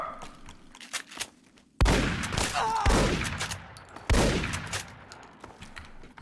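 Gunfire in the Fallout New Vegas video game: two loud, sharp volleys of shots, each followed by a decaying rumble, with quieter shots and some speech before the first one.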